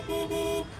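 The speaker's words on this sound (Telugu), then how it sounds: "హారన్ కూడా" An auto rickshaw horn gives a short double toot, two quick close blasts back to back, loud and alone.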